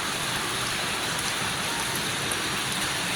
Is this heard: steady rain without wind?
yes